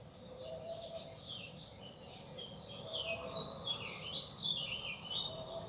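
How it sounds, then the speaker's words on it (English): Garden birds sing and chirp in the background with varied twittering phrases, fairly soft and distant over a low steady ambient hum, growing a little busier toward the end, no voices. "the bird song from the garden, which you can hear in the background, is louder and louder"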